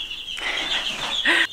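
Baby chicks chirp in a dense, high-pitched chorus close by in a coop, with one brief, lower-pitched call near the end.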